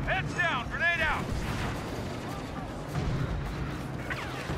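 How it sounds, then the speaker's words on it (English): A grenade explosion in Star Wars Battlefront II: a deep, rumbling blast that rolls on under battlefield noise, while a voice shouts briefly over it. "Heads down, grenade out!"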